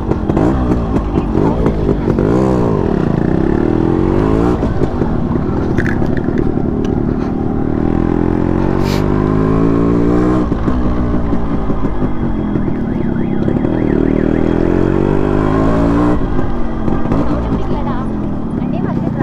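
Yamaha RX 100 motorcycle engine revving loudly and continuously up close, its harmonics sweeping up and down with each throttle blip, while voices talk over it throughout.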